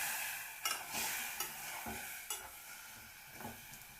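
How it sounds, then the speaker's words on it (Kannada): Spoon stirring a brinjal palya with coconut and a splash of water in a pan, giving soft scraping strokes at an uneven rhythm over a low sizzle, close and fairly quiet with no talking. "ಚೆನ್ನಾಗಿ ಈ ಥರ ಮಿಕ್ಸ್ ಮಾಡ್ತಾಯಿದ್ದೀವಿ"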